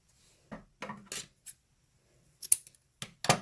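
Scissors snip a small piece of white ribbon, giving a few short, crisp cuts spaced apart, close and fairly quiet, with a sharp click near the end.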